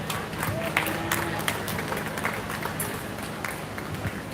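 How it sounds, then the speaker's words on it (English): An audience at a 4-H/FFA beef cattle show at a county fair claps in loose, scattered bursts that sound like a smallish crowd in an open venue, mixed with general background murmur. "let's give a round of applause for our Pee Wee Showman"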